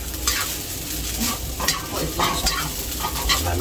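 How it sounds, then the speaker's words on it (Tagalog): Tocino, eggs and rice fry in a pan, a loud continuous sizzle overlaid with scraping stirring strokes and spatula clatter at close range, with no talking. "Marami tayong piniprito."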